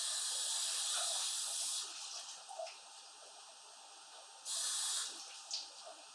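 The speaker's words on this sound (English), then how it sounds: "So I'm going to give this a quick rinse" Garden vegetables rinsed under a running tap, a soft hissing splash of water that flows, pauses, and resumes, with faint clatter between bursts.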